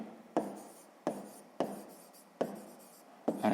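Pen or chalk scratching out numbers during a sixth-grade maths lesson, five separate strokes in steady succession, close and distinct, with no talking.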